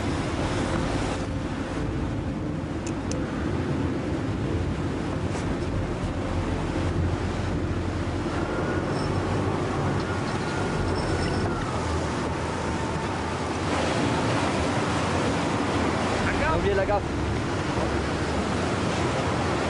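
Stormy sea waves crash and surge around a lighthouse, a constant heavy wash of surf with gusting wind buffeting the microphone and no voices.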